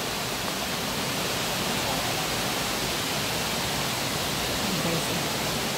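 Tumalog Falls waterfall, a loud, dense rush of falling water at close range, steady and unbroken from start to finish with no talking.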